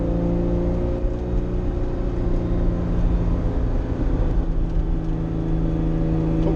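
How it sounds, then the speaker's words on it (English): A Ferrari Testarossa engine with custom headers and full exhaust holds a loud, steady droning rev, close and continuous with no talk over it. "now I just got to see if my revs are okay here."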